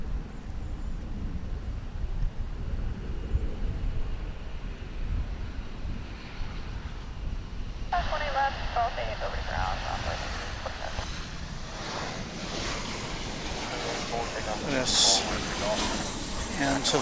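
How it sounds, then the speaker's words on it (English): An American Airlines jet airliner departing for Calgary from DFW International Airport makes a distant rumbling roar under wind noise, which swells into a broader, louder engine roar partway through. "This is American Flight 2517 off to Calgary in Canada."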